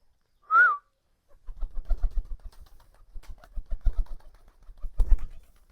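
One short, clear pigeon coo, followed by low rustling and shuffling movement that comes in bursts.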